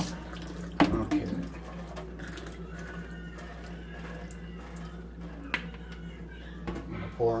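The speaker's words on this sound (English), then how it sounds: "I'm just going to go ahead and give them a quick rinse off" Tap water runs steadily into a sink while cooked penne noodles are rinsed, a continuous soft splashing hiss with a few clunks and knocks of a pot or colander.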